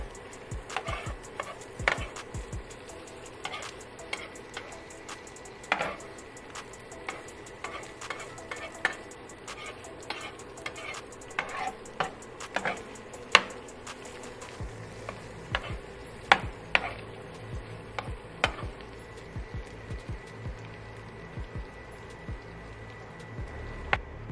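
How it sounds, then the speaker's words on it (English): Cheese and meat being chopped together on a hot griddle for a New York chopped cheese sandwich: a continuous sizzle broken by frequent sharp metal spatula clacks in an irregular rhythm, close and clear with no talking. "Just chop, get all the cheese acquainted with each other."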